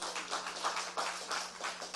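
Short, fairly faint burst of studio audience applause on a TV show, a quick scatter of claps with nobody speaking.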